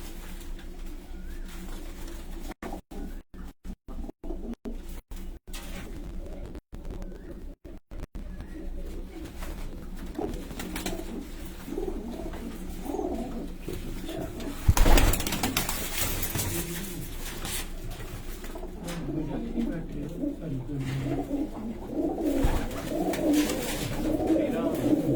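Racing pigeons from a loft in Pipplan, Punjab, coo softly and repeatedly against outdoor background noise, with a sharp burst midway and voices talking at times.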